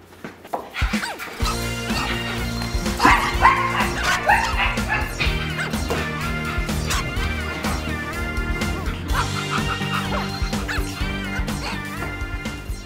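A girl imitates a dog with repeated yipping bow-wow barks and whimpers, close and loud over a background of music, carrying on through the whole stretch.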